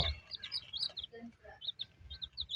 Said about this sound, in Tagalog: May 10 tayong sisiw